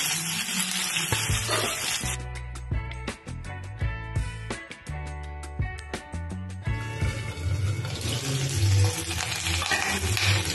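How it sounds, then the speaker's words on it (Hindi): Potatoes fry in hot oil for a mixed vegetable dish, a loud, steady sizzle with crackling and clattering throughout, growing denser and busier toward the end. "इसमें हम आलू फ्राई करने के लिए आलू को डाल देते हैं।"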